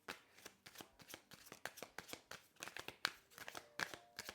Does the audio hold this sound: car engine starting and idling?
no